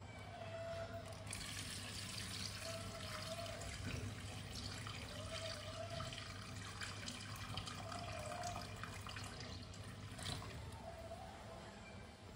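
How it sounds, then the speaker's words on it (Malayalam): Water streams steadily into a newly set-up planted aquarium, a continuous broadband splashing and gushing that stays loud and close throughout, with no talking. "നമ്മൾ വെള്ളമൊക്കെ ഒഴിച്ചു."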